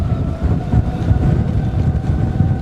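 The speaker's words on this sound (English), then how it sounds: "It's 20 knots of true wind speed here in the protected anchorage here." A strong 20-knot wind at a sheltered sailboat anchorage in Greenland makes a steady low roar and buffeting rumble across the microphone, continuous and fairly loud, with a faint tonal hum above it.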